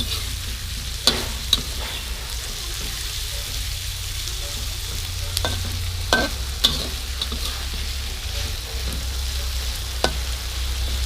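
Ham being stir-fried with holy basil in a pan: a steady, close sizzle with scraping stir strokes and sharp spatula clicks scattered throughout, with no talking.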